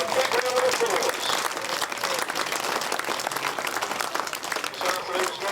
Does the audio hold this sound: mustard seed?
no